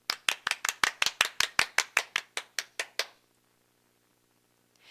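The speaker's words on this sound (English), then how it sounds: "Everybody clap for Tyrone." Steady rhythmic hand clapping, about fifteen sharp even claps over three seconds, fairly close and loud, then stopping into quiet.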